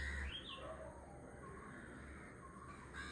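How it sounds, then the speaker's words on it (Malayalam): Morning birdsong outdoors, a few light chirps and calls rising over a soft, steady background hum, fairly faint and with no talking. "ഈ സമയത്ത് നല്ല കിളികളുടെയൊക്കെ സൗണ്ട് കേൾക്കാം."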